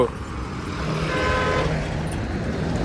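Heavy traffic crowds a single-lane road beside roadworks on the Gujarat to Mumbai route. Engines drone steadily, with horn toots cutting through the dense roadway noise.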